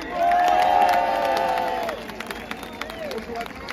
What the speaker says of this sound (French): Je vous prie d'applaudir Pascal Lepetit